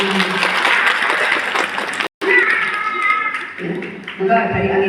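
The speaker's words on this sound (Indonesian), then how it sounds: "Tepuk tangan." Audience applause fills a large hall at a Purworejo community gathering, a dense clatter of clapping that cuts out briefly and then continues beneath a voice and some tonal sound.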